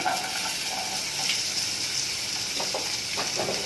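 Onions frying in a pan, a steady broadband sizzle holding even and close throughout, with a few faint stirring scrapes near the end and no talk.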